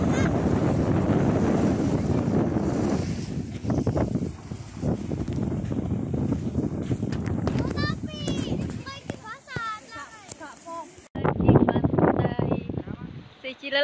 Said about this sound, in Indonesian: Sudah anginnya kencang loh